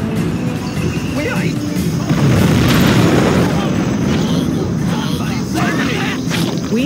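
A nuclear missile detonating in Command & Conquer Generals Zero Hour, a loud, sustained low rumbling blast that swells and rolls on for several seconds amid battle noise.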